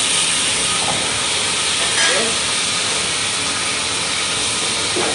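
Ingredients for dry fried rice vermicelli dropped into smoking hot oil in a wok, giving a steady loud hiss of frying that runs through the whole stretch with a brief surge near the middle.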